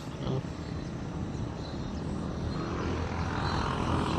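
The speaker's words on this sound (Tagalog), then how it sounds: "Nasa labas kasi tayo kaya walang tigil daan ng sasakyan." Steady roadside traffic with vehicles passing one after another outdoors, a continuous loud engine and tire rumble with no break throughout.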